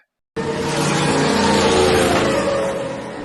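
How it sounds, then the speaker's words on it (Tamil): A Formula car race engine bursts in after a brief silence and holds a loud, continuous roar close by. "எஃப் கார் ரேஸ் நடக்க போகுதுடா"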